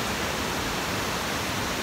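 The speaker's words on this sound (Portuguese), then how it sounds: "Olha só que cachoeira linda." A waterfall in Angelina, Brazil, produces a steady, even rushing roar of falling water that stays constant throughout, heard up close with no voices.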